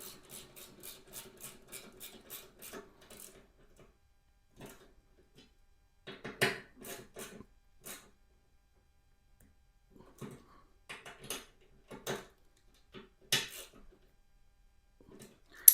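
A hand ratchet tightens an Allen bolt while a helmet lock is fitted on a Lifan KPT 400cc motorcycle, giving quick clicking runs followed by sparse, separated clicks with quiet gaps between strokes.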